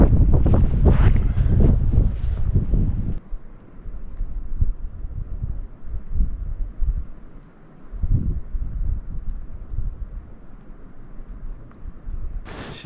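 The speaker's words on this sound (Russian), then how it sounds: "И при этом ветер достаточно сильный." Strong wind blowing through a cold, snowy forest along a trapline, a steady broadband rushing with buffeting gusts against the microphone, loud at the start and then settling into a lower continuous roar with no talking.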